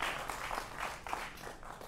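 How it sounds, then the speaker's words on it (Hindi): Brief studio audience applause on a live televised political debate show, a faint, steady patter of clapping lasting under two seconds. "प्रेम शुक्ला प्रवक्ता भारतीय जनता पार्टी के तो जोरदार तालियों से आपका अभिनंदन है"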